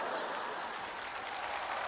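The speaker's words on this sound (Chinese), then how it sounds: "感谢您各位的掌声鼓励" Audience applause fills a studio hall during a televised Chinese crosstalk (xiangsheng) show for the Qixi Festival: a dense, steady wash of clapping from many hands, sustained at even loudness throughout.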